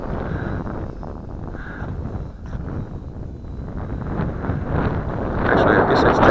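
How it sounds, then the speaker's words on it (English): Wind rushes steadily over a sailboat out on the water, a broad roar that swells louder toward the end. Someone talks over it. "Okay, the wind's picking up again now."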